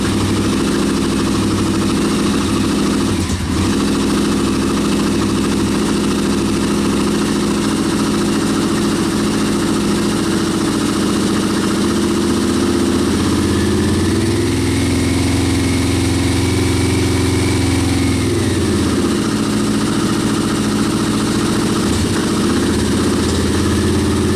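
A Yamaha V-Max 1200 motorcycle engine idles steadily for the whole stretch, a continuous loud rumble with a brief shift in pitch partway through, with no talking.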